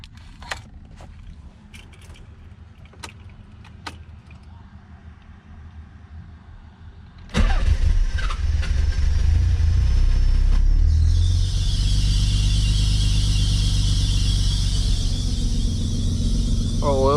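A Nissan 300ZX engine, rebuilt from used parts, cranks and catches, then idles with a loud, steady rumble for about ten seconds after a few scattered clicks and knocks beforehand.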